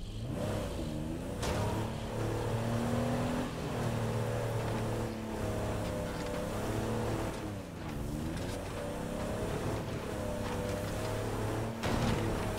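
A car engine revs and pulls away, its pitch climbing and dipping through gear changes in a steady, moderately loud drone.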